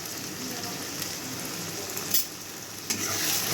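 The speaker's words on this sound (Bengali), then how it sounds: "ভালো করে কষিয়ে নিতে হবে।" Spiced masala for egg curry fries and sizzles steadily in a pan while being stirred, a close, continuous crackle broken by a couple of louder scrapes from the spoon.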